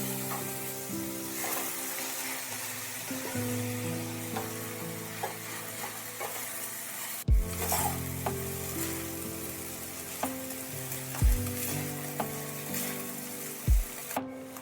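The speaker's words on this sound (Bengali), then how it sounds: "ভাজা ভাজা হয়ে যাওয়ার পর আমি ম্যাগিটা এর মধ্যে মিশিয়ে দিচ্ছি" Maggi noodles stirred into frying vegetables in a home-kitchen pan, a steady close sizzle with scraping and clattering stir strokes and a few sharp knocks of the utensil against the pan, no talking.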